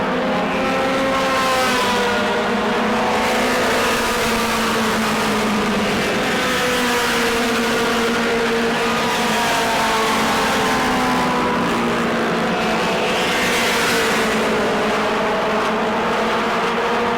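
Modified race cars roaring around the New Smyrna track in a Mod Mini 50 race, a continuous loud drone of several engines with rising and falling pitch as cars pass and accelerate.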